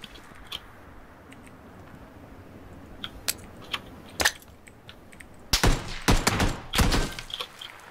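A grenade blows up in the PUBG battle royale game: a loud burst about halfway through, then a longer cluster of heavy blasts and cracks near the end, heard over quiet game ambience.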